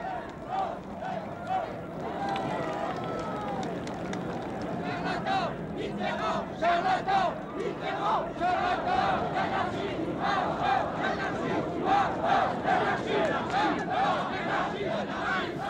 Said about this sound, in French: la foule afflue place de la Concorde, où de vieux briscards du gaullisme ont prévu depuis plusieurs jours une manifestation